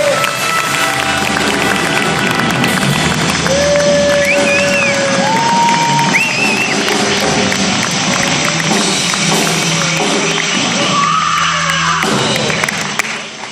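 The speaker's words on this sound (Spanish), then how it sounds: "La rana, por favor, al escenario. Un aplauso muy grande." A big festival audience claps, cheers and whoops loudly and continuously as a performer is called onto the stage, a dense, sustained roar of crowd noise with scattered shouts.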